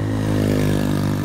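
A Honda Future 1 motorcycle engine runs close by with a steady, even droning hum and a faint mechanical clatter, no revving.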